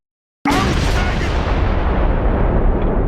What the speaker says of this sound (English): Panzerfaust attack.